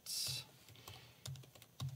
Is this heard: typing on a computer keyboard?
yes